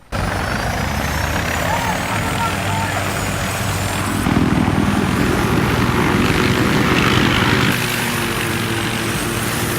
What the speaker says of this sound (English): And here is our helicopter. You can actually drive it.